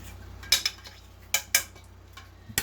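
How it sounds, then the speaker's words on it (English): Pork chop country gravy being stirred in a pan, with a utensil scraping and clinking against the bottom in a few sharp, close taps spread over a quiet background, and no talking. "continue to thicken up, always stirring the bottom to make sure we're not sticking"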